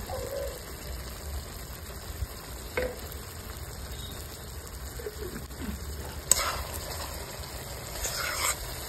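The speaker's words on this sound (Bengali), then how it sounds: "এক চামচ দেবো গাওয়া ঘি" A spoonful of ghee frying in a pan with fenugreek leaves for a village-style vegetarian cauliflower-potato curry: a continuous soft sizzle with occasional spoon scrapes, close and without talk.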